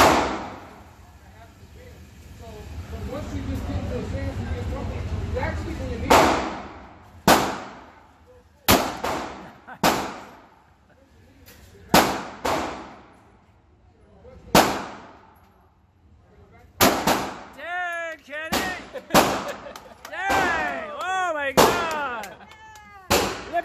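Single gunshots are fired at a target at a shooting range, about a dozen sharp loud cracks spaced a second or two apart, with people talking quietly between the shots.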